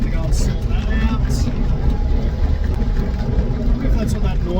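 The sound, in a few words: 1958 VW Beetle engine running with slipping clutch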